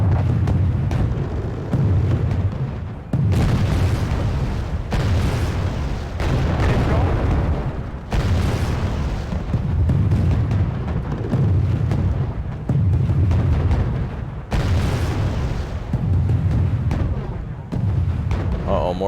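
Missile explosions in Wargame: Red Dragon, a naval battle between a Chinese fleet and British and French carriers: repeated deep booms in a steady rhythm of long rumbling bursts, loud and continuous, with faint talk underneath.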